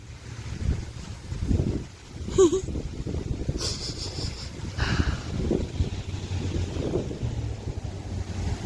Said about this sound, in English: It's still too windy to talk